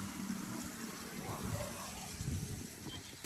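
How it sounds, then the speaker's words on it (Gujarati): Water drops about twenty feet into Narmada-fed channel water beside a pilgrimage route, making a steady, close rushing roar with no voices. "20 ફૂટ ઊંચાઈથી પાણી પડી રહ્યું છે."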